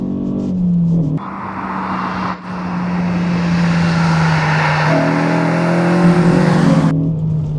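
A Renault Clio RS200 hot hatchback with freshly fixed suspension driven hard on twisty, gritted UK B roads, its engine droning loud and steady from inside the car, rising in pitch as it accelerates, with a brief lift between gears.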